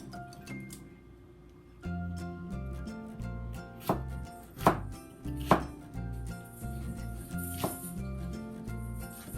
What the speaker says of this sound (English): Just cutting not too big, not too small.